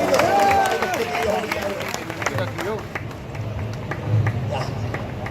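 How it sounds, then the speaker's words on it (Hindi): Applause from an audience at a motivational event for SSC GD exam candidates, a scattered clapping mixed with crowd babble and a voice speaking over it, fairly loud throughout. "एक तालियां, वो वाली तालियां"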